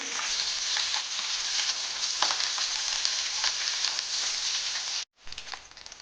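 Green chillies frying in a tablespoon of hot oil in a bowl-shaped pan, a loud, dense, continuous sizzle up close that cuts out abruptly for a moment before resuming, with no voices.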